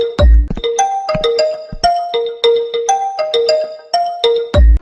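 A mobile phone rings with a bright, melodic electronic ringtone, a repeating pattern of chiming notes that plays loud and close with no voices over it.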